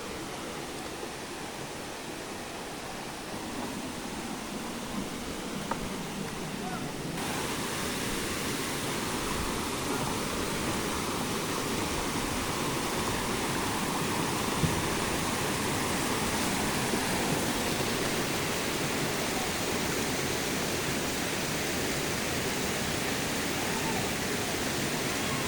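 A waterfall at Jalatharangini in Maredumilli gives a steady, dense rushing roar that fills the whole stretch without a break and grows slightly fuller after the first few seconds.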